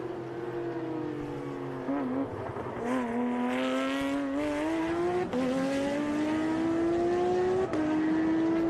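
Race cars at speed during an SVRA Trans Am race at Austin, engines screaming and rising in pitch through gear changes as cars run flat out down the front straight, with a commentator talking over the roar.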